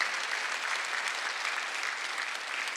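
Steady applause from a church congregation during a Sunday service, a dense continuous patter of clapping at moderate volume with no voices over it.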